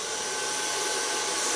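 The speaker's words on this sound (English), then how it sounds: "blow dry it with an Ergo brush" A Kiona blow dryer drying short pixie-cut hair worked with an Ergo brush, giving a steady, close airy roar that holds unbroken throughout.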